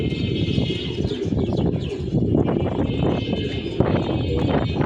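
Pigeons and young squabs in a crowded loft coo and shuffle throughout, a dense, continuous murmur of low cooing with occasional wing flutters and scratchy movement, fairly close and steady.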